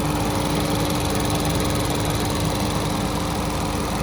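A 2013 Ford Focus ST turbocharged engine idles with a steady, continuous rumble and dense mechanical clatter, loud and close throughout with no voices.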